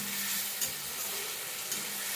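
Tomatoes sizzle and fry in a pan for a potato-tomato curry, a continuous soft crackling hiss with a couple of brief stirring scrapes, fairly quiet and close, no talking.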